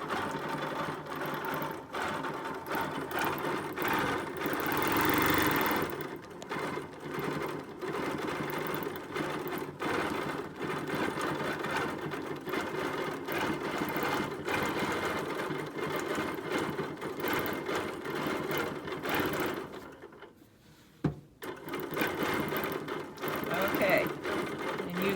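A sewing machine stitches in continuous rapid bursts while doing free motion quilting with gripper rings. It is loud and close, with one brief pause near the end before it starts up again.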